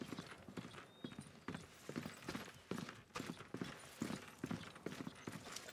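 Horses gallop in the medieval combat game Mordhau, their hooves hammering out a dense, rhythmic clatter that stays loud and close throughout.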